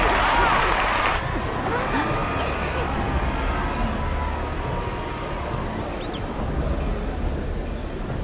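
A crowd cheers and applauds at a succession rite in Final Fantasy XIV: Dawntrail, a loud burst of cheering that fades into a lingering murmur of the gathered throng.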